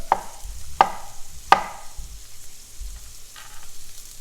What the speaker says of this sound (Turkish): Evet sarımsaklarım güzelce kavruldu.